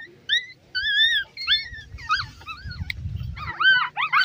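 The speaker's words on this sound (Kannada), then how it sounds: "ಪಪ್ಪಿಗಳೆಲ್ಲ ಈ ರೀತಿ ಕಿರುಚಾಡ್ತೇವೆ" Several Shih Tzu puppies, let outside for the first time, whimper and yelp in quick high-pitched cries, overlapping and close by, with some low rustling underneath.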